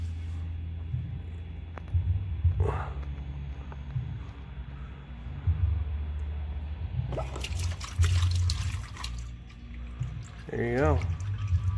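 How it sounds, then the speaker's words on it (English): Transmission fluid trickles and drips from the removed filter of a Saturn Ion, a steady liquid dribble running under a voice, with a few clinks of parts near the end. "when you do, a bunch more fluid is going to drain out"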